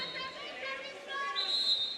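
A referee's whistle sounds during a women's water polo bronze medal match between Hungary and Spain at the 2023 World Cup Final. One shrill, sustained blast comes near the end, over crowd chatter and arena noise.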